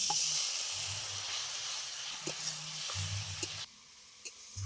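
Chili and turmeric powder with a little water hiss and sizzle in a hot pan, a steady bright fizz with soft stirring bumps, close and moderately quiet.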